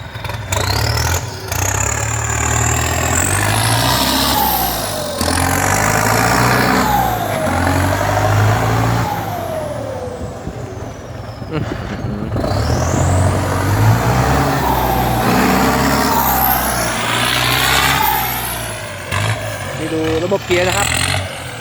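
A TS90 vehicle engine with a large filter runs and revs repeatedly while pulling away on a test drive after an inspection, rising in loud, close surges throughout, with someone talking over it.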